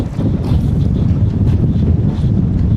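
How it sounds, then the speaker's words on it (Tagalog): Strong wind buffeting a microphone on an island in Concepcion, Iloilo, a continuous loud low rumble with steady gusting and no voices. "Lakas ng hangin eh."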